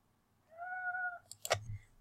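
A kitten gives one clear drawn-out meow close by, followed by a brief rustle and a soft thump indoors.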